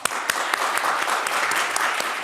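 A church congregation at a Korean Sunday service claps together, a steady wash of applause with a few sharp individual claps standing out, heard alone without speech.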